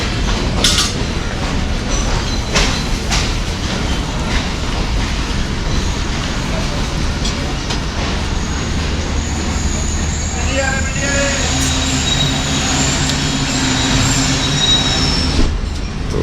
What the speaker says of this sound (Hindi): उधर से मेरी ट्रेन जो है उसने भी ऑन कर दिया है निकलने के लिए